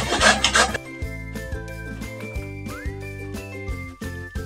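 Bottle gourd is rubbed against a hand grater in short rasping strokes for thepla, with a steady rhythm of scrapes close by and no talking.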